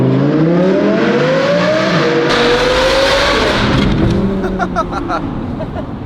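A loud Audi R8 engine with a Valvetronic Designs valved exhaust revs hard with a rising, raspy exhaust note, then crackles and pops as the revs drop, very close.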